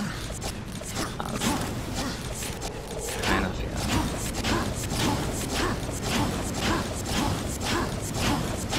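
A door lock mechanism triggering in the Darksiders action game, heard as steady mechanical creaking and ratcheting with rhythmic clanks repeating through the whole stretch at moderate loudness, with no talk.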